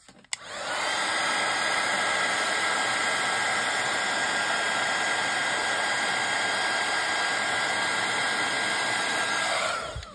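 A heat tool heat-sets a mixed media tile, a steady, loud, close whooshing blower hum switched on near the start and running evenly for nearly ten seconds before winding down, with no talking.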